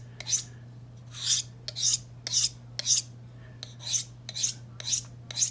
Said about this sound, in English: we're gonna give it a little quick couple of passes on a ceramic rod